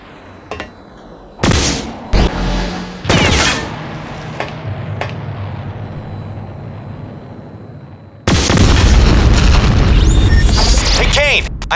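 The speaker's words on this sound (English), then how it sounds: "Blast these containers to get them out of your way" Crates and containers blasted apart in the PC game Blowout: several heavy booming explosions in quick succession, then a long loud rumbling blast that fills the end, with a voice speaking in between.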